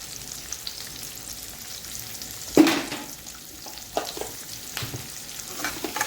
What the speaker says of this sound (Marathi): हा कांदा आपल्याला परतून घ्यायचा थोडा वेळ।